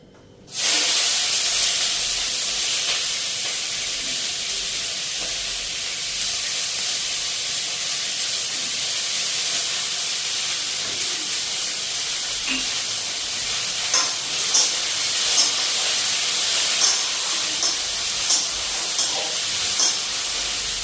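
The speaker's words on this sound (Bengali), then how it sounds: "আর এই যে দেখো বাঁধাকপি আর পেঁয়াজ আর কাঁচা লঙ্কা নিচ্ছি। তো এটা একটু হালকা ভাজে নিই।" Cabbage, onion and green chili frying in hot oil: a loud, steady hiss and sizzle starts abruptly and holds throughout, with faint stirring clicks toward the end and no talking.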